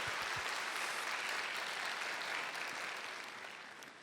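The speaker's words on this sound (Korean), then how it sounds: "우리 하나님께 영광의 박수 하겠습니다." Applause from a Baptist church congregation at a worship revival service, a broad steady wash of clapping that holds strong for about four seconds before gradually tapering off, with no speech over it.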